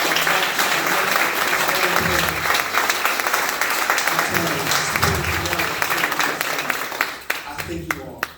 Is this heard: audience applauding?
yes